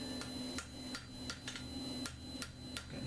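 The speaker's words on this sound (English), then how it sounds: "the little one is nice for just finishing off, taking out all the decent or big hammer marks" A small hammer taps a forged iron strap hinge in a steady rhythm of sharp metallic strikes, about eight blows in three seconds, close by over a low background hum.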